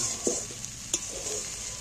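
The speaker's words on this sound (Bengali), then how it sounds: "ডিমটা হালকা করে ভাজলে তাহলে ডিমটা একটু নরম নরম হবে" Eggs fry in oil and are stirred in a pan, making a soft, steady sizzle with a few faint scraping taps of the spatula, with no one speaking.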